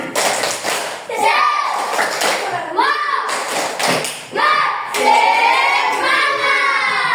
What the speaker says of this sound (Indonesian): Kita berikan tepuk tangan kepada kelompok